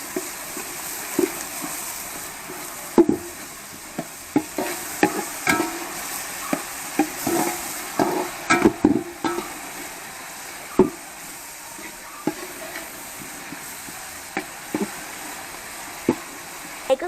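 A spicy beef liver fry with long-sliced green chillies being stirred in a pan, with repeated scraping and knocking strokes over a low, steady sizzle, close up and with no speech.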